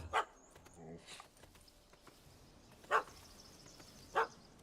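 A dog in The Witcher 3 gives several sharp, separated barks, with one near the start and two louder ones later, over quiet ambience.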